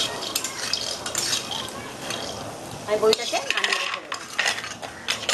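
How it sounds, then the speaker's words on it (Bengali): Fried lentil dumplings (bori) lifted out of a pan of hot oil, with scraping and clinking of a metal spatula against the pan over a soft background sizzle, close and moderately loud. "বড়িটা আমার লাল লাল করে ভাজা হয়ে গেছে। এবার আমি বড়িটাকে নামিয়ে রেখে দেব।"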